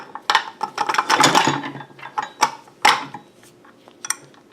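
Bolts being screwed into a North Bayou desk mount swivel stand, heard as a close series of irregular metallic clicks, scrapes and rattles in short bursts.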